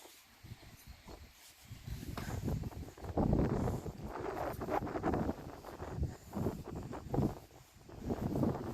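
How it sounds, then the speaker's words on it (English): Gusty wind buffets the microphone at a lakeside cemetery in Shoreham, Vermont, where flags wave; the low rumbling gusts rise and fall unevenly and build stronger after the first couple of seconds, with no one speaking. "I see a lot of flags waving in the wind today."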